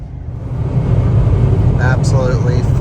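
A Fiat Panda hybrid with manual transmission driving flat out on an Italian highway near its top speed gives a steady, loud engine and road roar, with faint brief chirps riding on top.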